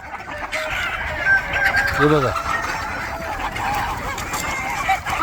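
Free-range country chickens cluck and call amid a busy, continuous flock noise on a poultry farm, with someone briefly speaking over them.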